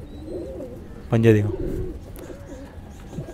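A pigeon gives one clear, throaty coo at close range, a short rolling call. Quiet talk runs before and after it in a calm indoor setting.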